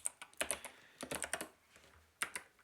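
Quick, uneven bursts of computer keyboard typing as a command is entered, crisp nearby key clicks in short clusters separated by brief pauses.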